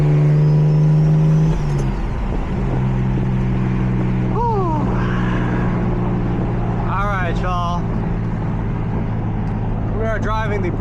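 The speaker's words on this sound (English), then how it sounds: "Driving the broken M3 to go drop off some merch to my buddy." A damaged BMW M3 drives along with a steady, close engine drone heard from inside the car, its tone shifting slightly in pitch. Voices can be heard faintly over the engine at times.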